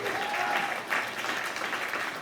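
Audience applause at a big band concert, a dense, continuous round of clapping heard from within the crowd.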